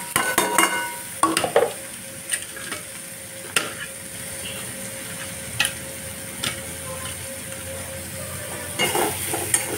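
Potatoes sizzling in a pan for bhaji while a spatula stirs them, with a steady frying hiss under sharp scraping clicks against the metal at irregular intervals.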